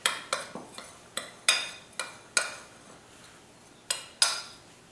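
A utensil stirs walnut bun (aranygaluska) dough mixture in a bowl, making a series of sharp clinks and scrapes spaced irregularly, some louder strikes among softer taps, quiet and close with no talking.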